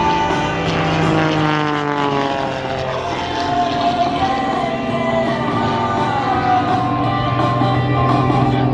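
An aerobatic airplane flies at an airshow in Battle Creek, its propeller engine droning loud and steady with pitch sweeping as it maneuvers, heard alone without talk.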